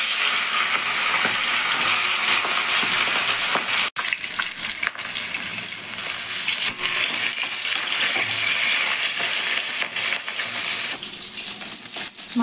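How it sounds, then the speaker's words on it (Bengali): Rohu fish heads fry in hot oil, a loud, dense crackling sizzle that continues without pause, with occasional sharper pops and spatters close by. "রুই মাছের মাথা ভেজে নেব।"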